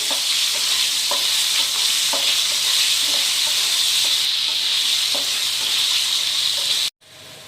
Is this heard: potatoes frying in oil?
yes